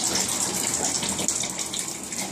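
Roof leak water pouring steadily through a temporary drain hose into a catch basin, a continuous close gushing rush with no talking.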